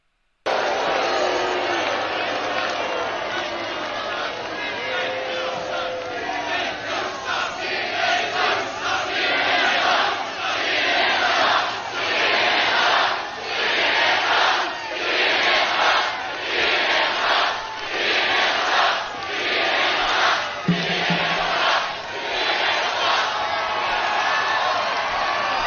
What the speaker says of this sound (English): This is a hell of a big crowd, Brad